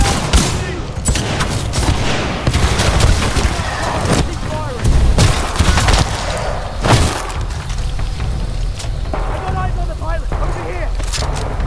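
Dense, rapid gunfire from Titanfall 2 fills the scene with repeated bursts and heavy booming impacts, loud and close throughout, while voices talk over the battle.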